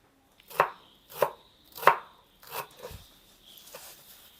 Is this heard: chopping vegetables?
yes